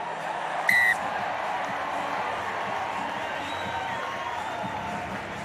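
A huge home crowd at a women's rugby sevens match in Perth roars steadily in the distance, a broad wash of cheering with a brief sharp whistle near the start.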